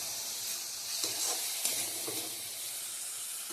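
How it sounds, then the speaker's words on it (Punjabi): Turmeric sizzles in hot oil with a spice masala for a milk-based ridge gourd curry, a steady bright frying hiss broken by a few soft scrapes of stirring, close but fairly quiet. "ਇੱਕ ਚਮਚ ਹਲਦੀ ਹਲਦੀ ਨੂੰ ਚੰਗੀ ਤਰ੍ਹਾਂ ਭੁੰਨਾਂਗੇ"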